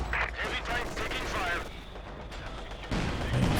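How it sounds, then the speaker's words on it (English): Strafing run from aircraft in Company of Heroes 2, a WWII strategy game: continuous rumbling gunfire and explosions heard under a commentator's voice, with a heavier burst near the end. "The strafing run here."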